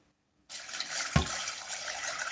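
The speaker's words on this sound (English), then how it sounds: "I'll add some water to this" Water pours from a tap into a cooking pot for boiling macaroni, a steady close gushing stream that starts abruptly after a brief silence, with a small clunk partway through.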